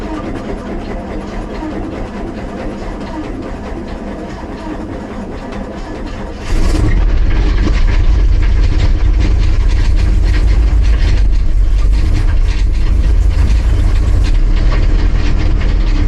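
A 1966 GMC truck engine that runs rough: faint background noise first, then a loud, steady, close low rumble kicks in partway through and drones on without a break.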